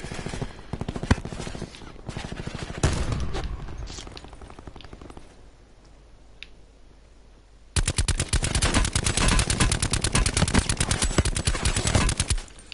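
Video game gunfire in a Blackout match: rapid bursts of shots at first, a quieter stretch, then a loud sustained stream of fast automatic fire to the end.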